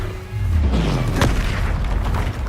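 In the Hogwarts Legacy video game, spell explosions land as a loud, continuous booming roar with a low sweeping rumble and a bright burst midway, dense and close.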